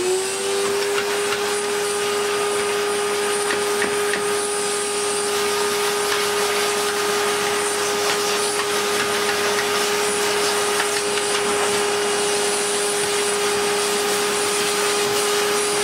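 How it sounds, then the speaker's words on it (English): A 1600-watt Electrolux Filtaire vacuum cleaner drones steadily and loudly as it vacuums out a back door, holding a constant motor whine with no pauses. "We should move on and give this back door a bit of a vacuum out."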